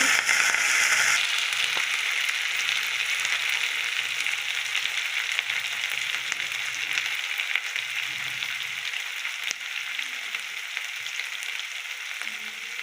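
Cumin and ginger-garlic paste frying in hot oil in a pan, a steady close sizzle with a crackling hiss that stays dense and continuous, slowly easing slightly.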